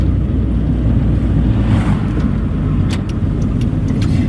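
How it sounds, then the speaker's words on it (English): A Triumph Acclaim L with a Honda overhead cam engine revs, a steady loud engine drone mixed with road and wind noise from inside the moving car, with no voices. "being a Honda overhead cam engine, it's really very happy to rev"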